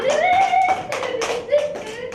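A small group at an evening gathering claps in several sharp bursts, mixed with excited vocal sounds and cheering voices over the short applause.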